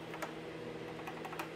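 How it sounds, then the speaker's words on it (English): Keys clatter on a DEC PDP-11 terminal keyboard from the 1970s, a quick uneven run of sharp clicks heard up close against a steady machine hum. "you can change the value at the memory location by typing a memory location such as this"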